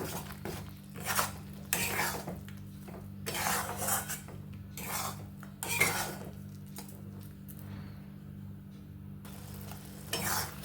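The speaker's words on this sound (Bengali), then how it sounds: "এবার ভালো করে নেড়ে নিচ্ছি" A spoon scrapes and clinks against a pan while mashed banana stem with grated coconut and chilli is stirred, in repeated bursts of metallic scraping over a faint sizzle, with quieter pauses between strokes.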